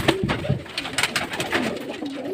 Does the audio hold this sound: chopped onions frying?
no